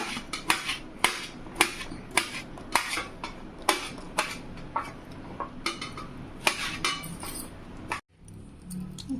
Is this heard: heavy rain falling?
no